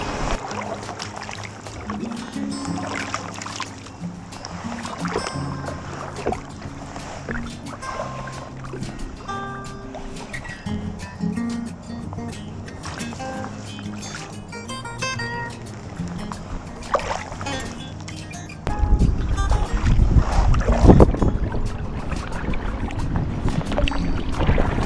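Wooden Greenland paddle stroking through water beside a kayak, soft rhythmic splashes and drips over gentle wind, growing louder and rougher near the end.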